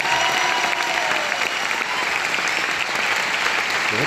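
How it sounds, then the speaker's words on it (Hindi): A large auditorium crowd at an anniversary event claps loudly and continuously, a thick unbroken roar of applause with faint voices mixed in. "एक बार जोरदार तालियां जनार्दन के लिए और सारे ग्लोबल डायमंड्स के लिए"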